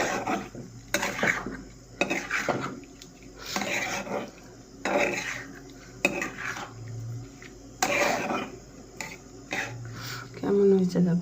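Pots and utensils clatter as paneer goes into a spicy home-cooked curry and is stirred around the pan, with irregular scraping and clinking bursts, close and moderately loud, and a faint voice briefly present.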